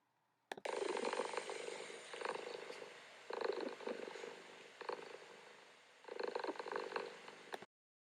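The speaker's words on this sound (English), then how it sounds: "The happy cat purred and purred." A cat purrs in rhythmic rumbling waves, each breath cycle rising and falling, close and fairly quiet, starting and stopping abruptly with no talking.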